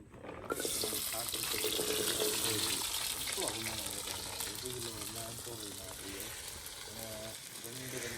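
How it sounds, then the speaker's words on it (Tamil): Shallots fry in boiling sesame oil at an outdoor farm cooking spot, making a steady, loud hiss throughout. A person talks over the sizzling. "நல்லெண்ணெய் ஊத்தியாச்சு நல்லெண்ணெய் கொதிச்சு கொண்டு இருக்குது"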